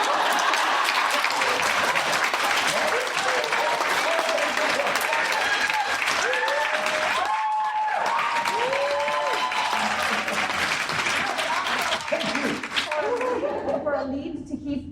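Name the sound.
audience applause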